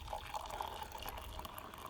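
Water, about 200 ml, poured into granulated instant coffee from a Wagner Group 24-hour military ration pack, a steady close trickle and splash lasting the whole moment with no talking.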